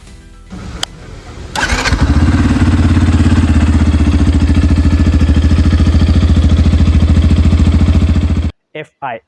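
A Yamaha FZ-S FI version 4 motorcycle engine starts after some handling noise, then revs up and holds a loud, steady, throbbing drone for several seconds before cutting off abruptly, close to the listener.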